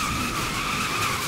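A car drifts in Need For Speed Most Wanted (2012), its tires squealing in one continuous, loud skid over engine noise, with no talking.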